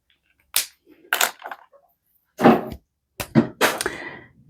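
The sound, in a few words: young cat knocking over stamped cards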